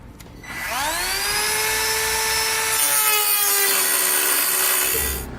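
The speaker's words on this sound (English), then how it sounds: "We'll now use our cutting tool to cut a notch into the frame" A power cutting tool notches a 2009 GMC Sierra truck frame with a loud, sustained metallic whine that spins up quickly, holds for about four seconds and then winds down.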